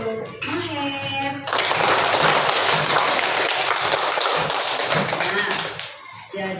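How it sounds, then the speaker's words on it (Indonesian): Pupils in an elementary school classroom break into applause for a classmate, a dense burst of clapping that starts after brief talk and runs steadily for several seconds before tapering off, with children's voices mixed in. "Beri tepuk tangan untuk Maher."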